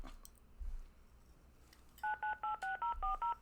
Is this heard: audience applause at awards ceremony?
no